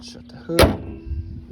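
A car hood slams shut with a single loud, close thunk while a voice talks around it, during work on replacing broken windshield washer nozzles.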